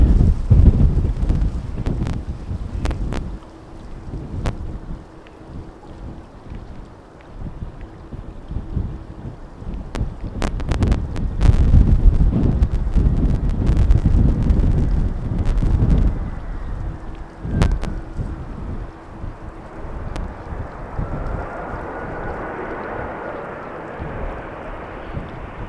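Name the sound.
wind blowing at Amsterdam Schiphol Airport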